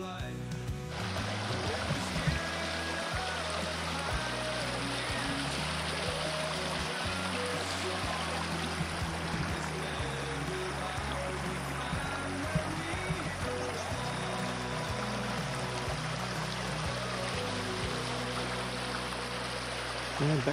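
River water flowing in the Lerderderg bush of Victoria, Australia, a steady broadband rushing close by throughout, with no break.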